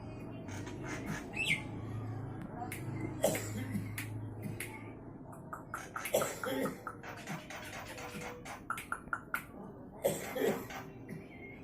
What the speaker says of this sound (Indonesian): Ono jalak uren iki